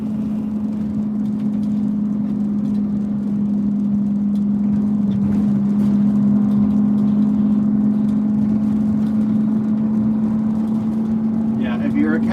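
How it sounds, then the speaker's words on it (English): A rebuilt engine runs with a steady, even low drone that holds a constant pitch throughout, while people talk over it. "But yeah, we got the engine taken care of. It's running good now."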